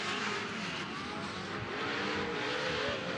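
Pro-class 4x4 off-road race trucks at the Bark River track roar steadily on the final lap, a continuous, fairly distant engine drone with no voices over it.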